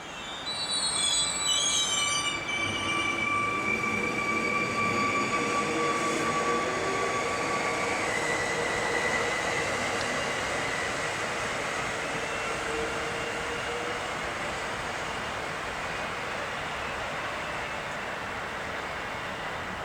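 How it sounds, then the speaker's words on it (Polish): A passenger train pulls out of Warszawa Młynów station, wheels squealing with high drawn-out tones and a steady rolling roar that fades slowly as it moves away, heard alone without talk. "Pociąg gotów do odjazdu."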